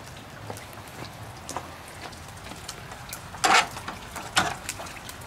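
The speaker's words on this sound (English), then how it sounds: "let's get out of this rain" Rain falls outside a house in February, with scattered drops hitting nearby surfaces as sharp taps and a couple of louder splashy bursts over a steady light patter.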